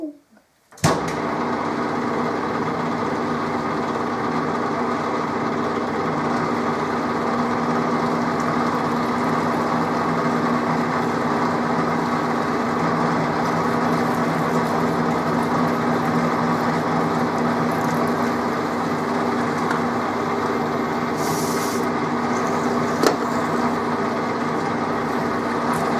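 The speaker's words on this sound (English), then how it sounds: "now to find a drill to bore it with" A power drill boring metal whirs in one long, steady drone without letting up, fairly close and unchanging in pitch.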